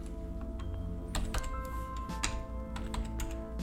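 Steady, close keystrokes on a computer keyboard while VBScript code is typed, quick irregular clicks over a low background hum.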